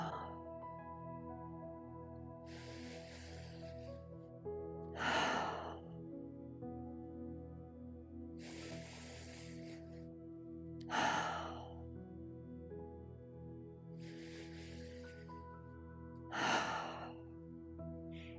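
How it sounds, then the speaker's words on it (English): Cleansing qigong breaths, in through the nose and out through the mouth, come as slow audible exhales at regular intervals over a soft sustained musical drone, calm and close. "In through the nose and out through the mouth."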